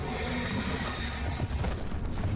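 Horse hooves clopping with a neigh in the game Warframe, dense and fairly loud beneath busy game ambience, no speech.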